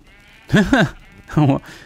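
A Minecraft sheep gives two short bleats about a second apart, nasal and wavering, clear and close. No other sounds accompany them.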